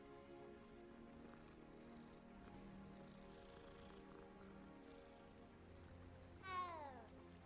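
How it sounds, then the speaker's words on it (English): A cat in a video game gives a single short meow near the end, standing out over a quiet, steady ambient background of soft tones. "Kitty cat."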